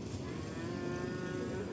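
A cow lowing beside the Ganga river: one long, steady, drawn-out moo, close and clear, over a constant outdoor hum with no one speaking.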